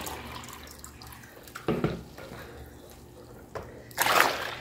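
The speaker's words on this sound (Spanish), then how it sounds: "Le vamos a poner el primer litro de agua fría y vamos a revolver" Cold water poured into a bucket while mixing homemade stain-removing liquid soap, a soft steady trickle with two brief louder gushes, close by and fairly quiet.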